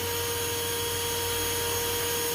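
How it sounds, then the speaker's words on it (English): A swarm of around a thousand yellow jackets nested in a bedroom ceiling in Marlboro, Massachusetts, making a steady, dense droning hum with a constant low buzz and no pauses, heard without any talk. "You hear that noise, Devontae? That's all yellow jacket."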